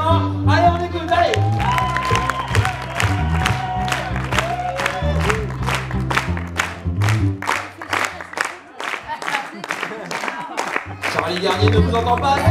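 Crowd at a convention in Poitiers clapping in rhythm, with sharp, evenly spaced claps beating steadily over music, along with cheering and voices from the audience.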